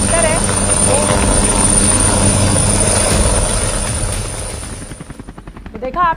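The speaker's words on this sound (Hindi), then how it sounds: "तो देखा आपने ये मेरा हेलीकॉप्टर उड़ान भर चुका है।" A helicopter flies with a loud, steady rotor and engine drone that swells then fades toward the end, when a voice begins to talk over it.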